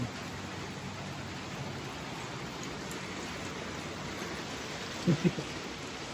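A heavy rain downpour in Florida, a steady, dense hiss of rainfall lasting throughout, with a few brief thumps near the end.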